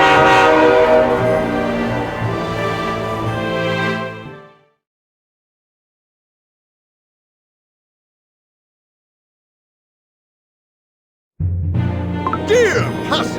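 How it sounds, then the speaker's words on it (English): A departing Holiday Express train in Cookie Run Kingdom sounds loudly with a horn and rolling railway noise for about four seconds, then falls silent, and train sounds return near the end. "Our train is departing."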